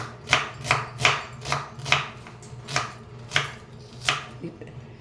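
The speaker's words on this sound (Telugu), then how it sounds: "ఇట్లా కట్ చేసుకోవాలన్న సన్నగా" Knife slicing tomatoes thinly on a cutting board, steady rhythm of seven or eight crisp close chops about half a second apart, alone without talk.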